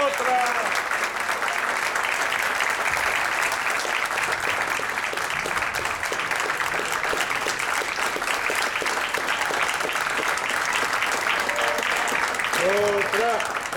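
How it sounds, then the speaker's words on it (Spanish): An audience applauds after a Latin jazz concert at an anthropology museum in Xalapa, a dense, steady round of clapping throughout, with a few cheering voices near the start and the end. "Y creo que se merecen un aplauso más fuerte,"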